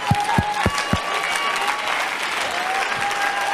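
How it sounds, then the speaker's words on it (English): Congregation clapping hands during a church worship service, a few sharp claps at the start that then blend into steady applause, with organ-like sustained tones underneath. "If you ain't clapped your hands in a long time,"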